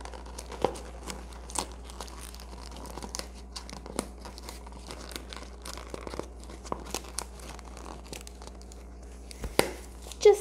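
Paper is crinkled and taped over the end of a paper towel roll for a rain stick craft, with faint scattered rustles, crackles and tape tearing sounds, a louder crunch near the end.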